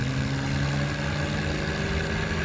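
A tractor engine labours steadily under plough load, a loud continuous low drone with a constant tone from start to finish and no voices.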